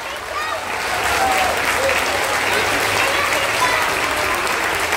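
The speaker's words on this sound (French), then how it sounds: "je voudrais vous demander de vous lever, non pas pour nous applaudir à nous, mais pour applaudir tous les bénévoles" A festival audience at the Limoux Brass Festival breaks into sustained applause for the volunteers, swelling into a dense, steady roar of clapping across the crowd.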